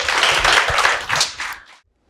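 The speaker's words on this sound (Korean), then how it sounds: "박수 한 번만 더 쳐주세요." Audience applause at an orientation session for a Korean civil service exam prep course, a dense burst of clapping that thins and stops after about two seconds, leaving silence.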